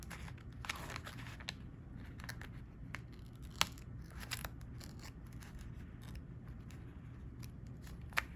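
Scissors snipping away excess paper from a planner page, a few quiet crisp cuts and paper rustles over a low steady room hum, close and faint with no talking.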